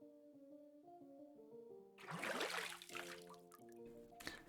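Bath water sloshes and splashes faintly in a visual novel video game, a soft burst of liquid movement midway over gentle background music, then fading to light trickles.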